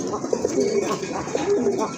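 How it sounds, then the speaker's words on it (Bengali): A pair of blue-grey Rajgolla pigeons coo close by in a loft, with soft repeated throaty coos in two short bursts over a low background murmur. "খুবই চমৎকার এক জোড়া রাজগোল্লা কবুতর"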